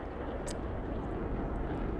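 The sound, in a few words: F-22 Raptor jet flying in from the video game Broken Arrow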